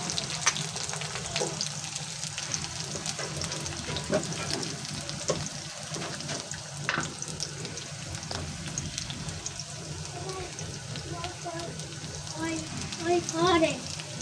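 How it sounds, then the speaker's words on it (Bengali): Papaya bhaji fries in a pan on a home kitchen stove, a soft continuous sizzle with occasional stirring scrapes and clinks, mixed with some running water and faint background voices. "পেঁপে ভাজি বসাইতেছি।"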